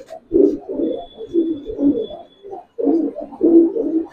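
Giribaz pigeons of the Palla line coo in close, soft, throaty bursts, several rounded calls in a row with short pauses between them.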